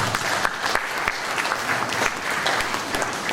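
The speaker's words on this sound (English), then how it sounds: "You can give yourself a clap for that." Audience at a hospital gathering claps steadily together, a dense, fairly close patter of many hands with a few sharper individual claps standing out, no talking over it.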